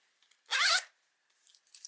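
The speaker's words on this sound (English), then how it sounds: "it zips up great" A replacement zipper on a repaired garment is pulled closed in one quick, close rasp, followed by faint small clicks and fabric handling.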